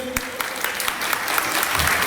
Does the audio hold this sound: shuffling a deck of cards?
no